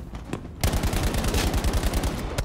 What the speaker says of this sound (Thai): คราวนี้เป็นปืนกลบ้าง